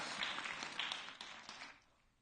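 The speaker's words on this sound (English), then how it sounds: "A round of applause, because everyone really nailed those almost, like fully." Audience applause after a group activity at a Ramadan night gathering, a soft, dense patter of clapping that holds steady and then fades toward the end, with no talk over it.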